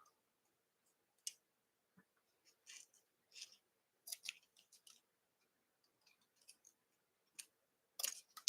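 Scissors trimming material at close range, with irregular crisp snips arriving singly and in short bursts of two or three, separated by quiet pauses, no talking.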